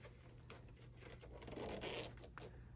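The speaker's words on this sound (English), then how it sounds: "so you want to open your zipper up about 3/4 of the way across the bag." A zipper on a small fabric pouch made from scraps is drawn open, a faint close raspy rubbing that swells briefly in the middle, quiet and alone.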